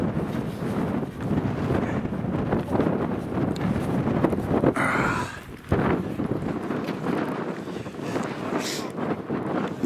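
Strong wind of about 30 mph buffets the microphone on an exposed fell at a winter wild camp, a loud continuous roar with gusty surges and no speech.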